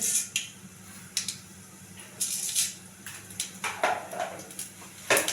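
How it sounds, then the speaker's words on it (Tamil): Mustard seeds sputter in hot oil in a pan while a South Indian sambar is cooked: scattered sharp pops and crackles burst irregularly over a soft continuous sizzle, close and fairly quiet. "கடுகு நல்லா பொரியுது"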